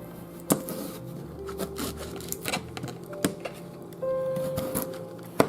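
A knife cuts a red potato into big chunks for a pot roast, giving sharp, irregular knocks of the blade against a cutting board with quieter rubbing and shuffling in between, close up.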